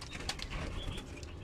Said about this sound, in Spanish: Miren, esa tórtola blanca